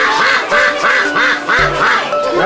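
Repeated loud, close duck quacks in a quick rhythmic series at a petting zoo, one after another with barely any pause.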